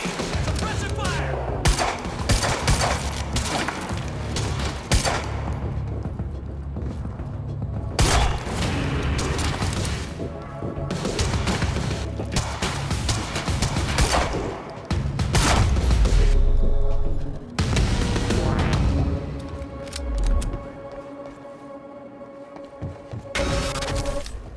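Gunfire in the video game Quantum Break, a dense loud fusillade of shots, bursts and booms with heavy low thumps throughout, mixed with game voices shouting over the firefight.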